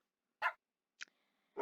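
Dogs in the Minecraft video game bark in the overworld, with two short separate barks and a third starting at the end, fairly faint with silence between them.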